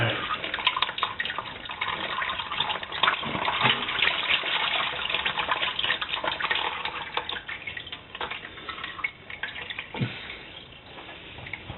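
Transmission fluid pouring out of a car's transmission pan, a steady splashing gush of liquid running continuously, close and fairly loud, easing slightly near the end.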